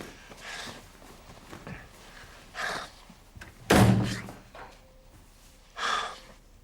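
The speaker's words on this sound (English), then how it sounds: "Shut the door when you leave." A door slams shut once with a heavy thud, following a few quieter rustles and a short breath, with a soft thump afterward; no one speaks.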